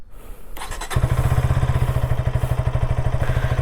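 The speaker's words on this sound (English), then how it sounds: "Let me just turn on the bike." A KTM Duke 160 motorcycle engine cranks briefly, then catches and settles into a loud, steady idle with a rapid, regular throbbing pulse.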